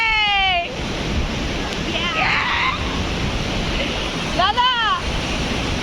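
Ocean waves break and wash continuously at Arambol Beach, Goa, with a steady surf hiss under brief speech and a few high whistle-like chirps.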